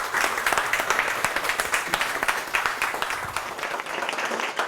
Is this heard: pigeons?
no